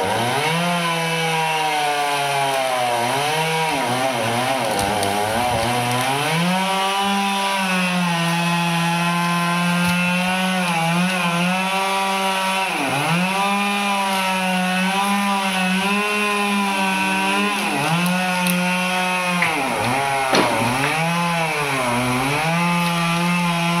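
A chainsaw cuts a felled coconut tree into pieces, its loud engine whine rising and dipping repeatedly as the chain bites into the trunk and eases off, close and continuous for the whole stretch, with no voices.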